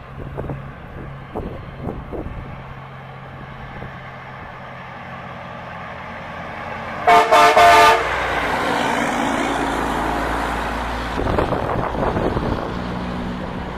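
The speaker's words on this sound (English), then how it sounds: "Let's see if you got a train horn." Rumbling traffic noise, then a loud, brief multi-tone train horn blast from a passing semi truck nearby, followed by the truck's roar and a second, shorter horn burst.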